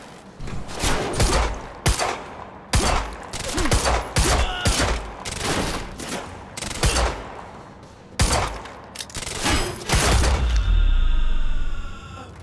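Enemy gunmen open fire in the video game Quantum Break, with dense, loud bursts of gunshots in rapid irregular volleys and a few heavy thuds, continuing almost without pause and ending in a sustained roar.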